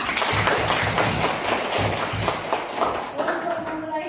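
A primary school class of young children clapping hands in a classroom, rapid loud rhythmic claps in bursts, with children's voices mixed in and trailing off at the end.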